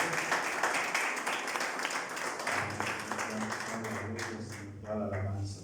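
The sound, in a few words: congregation applause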